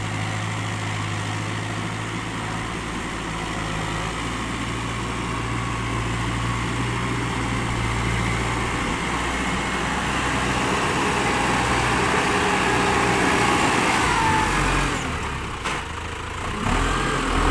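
A 106-horsepower New Holland T5060 tractor pushing soil runs steadily after a gear shift, its engine a continuous, moderately loud drone that builds slightly and wavers briefly near the end, with no talking.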